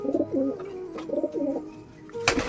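Giribaj pigeons cooing in a loft, repeated soft warbling coos close by in short phrases, with a brief rustle or flap near the end.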